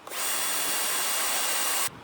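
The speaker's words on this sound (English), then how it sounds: "you're gonna drill all the way through there" A power drill drilling through a metal axle whines steadily at high speed for under two seconds, close and loud, then cuts off abruptly.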